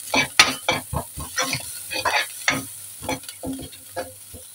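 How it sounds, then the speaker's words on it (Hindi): Spices with dried fenugreek leaves (kasuri methi) and turmeric are sautéed in a pan, with a run of sharp, rhythmic stirring scrapes over a soft sizzle, close and fairly loud, and no talking. "इसमें थोड़ी सी कसूरी मेथी ऐड कर देते हैं, इसे भून लेंगे"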